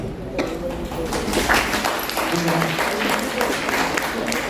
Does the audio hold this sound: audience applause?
yes